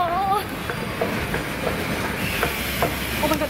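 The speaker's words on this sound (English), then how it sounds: "the train is here" A Seoul subway train in a station, with a steady rumble, rhythmic rail clatter and hissing, and faint high squeals at the start and end; no clear voices over the noise.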